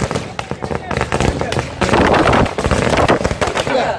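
Firecrackers burst at a DMK flag-hoisting celebration in Nellai, Tamil Nadu, in a loud, dense run of crackling pops and bangs that goes on for the whole stretch, with voices mixed in.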